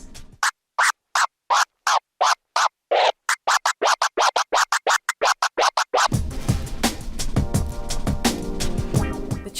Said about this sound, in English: I'll teach you how to do the chirp scratch